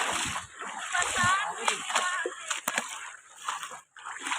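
Several people bathe in a river, with steady watery splashing and sloshing throughout, loud and close, mixed with voices and laughter from the group.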